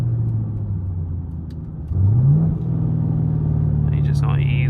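A Camaro SS engine drones low, then surges louder as it revs and accelerates, holding a raised pitch; a faint higher tone rises near the end.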